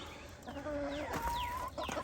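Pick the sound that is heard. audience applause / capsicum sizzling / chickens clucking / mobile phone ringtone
chickens clucking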